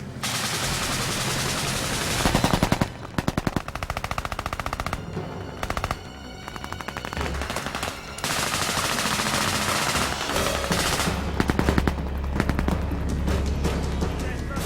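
Gunfire erupts during an Army Ranger training assault, with loud sustained bursts of automatic rifle and machine-gun fire, rapid overlapping shots and brief pauses, dense and continuous outdoors.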